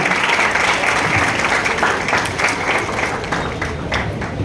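Sustained applause from a seated audience at an education seminar, welcoming a guest; steady, dense clapping throughout with a faint murmur beneath.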